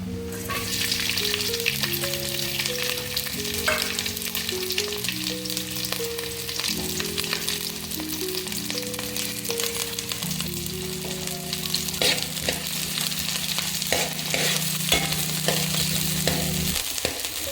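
Green chillies fry in hot oil for lemon chicken fry, a constant close sizzle with occasional stirring clicks that runs under steady background music.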